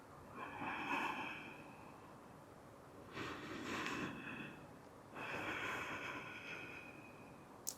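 A yoga practitioner takes slow, audible breaths through the nose with a soft snorting rasp, three long inhale and exhale cycles spaced a few seconds apart, close and quiet with no talking.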